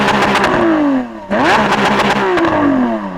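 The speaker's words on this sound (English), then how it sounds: "so I'm going to rev up this SVJ" Lamborghini Aventador SVJ with its V12 engine revving hard, two loud rising blips with a brief dip between them, close and unaccompanied by talk.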